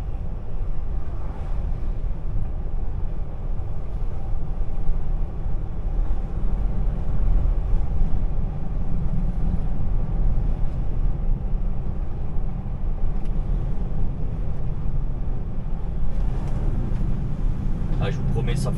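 An empty truck driving on a road in the Vosges (département 88) gives a steady, close rumble of engine and road noise that stays level throughout without a break.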